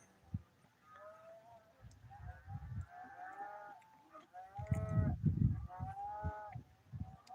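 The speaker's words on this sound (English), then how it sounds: "hear the cows out there behind us." Cows low out on a farm behind a cabin, giving a series of drawn-out, wavering calls at moderate distance. They are mixed with low rumbling bumps and handling noise that grows busier toward the end.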